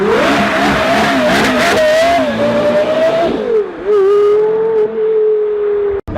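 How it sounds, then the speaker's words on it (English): A Porsche Carrera GT engine revs loud and close while drifting, its pitch climbing and holding, then dipping and swelling again. It ends with a brief tyre squeal and a sudden cut. "perfect drift right there in a Carrera GT"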